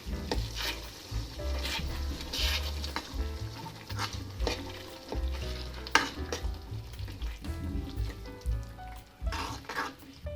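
Cooked dal and spinach being mixed in a kadhai, a wet, bubbling sizzle with repeated scraping and sloshing strokes of a spoon, close and steady without speech.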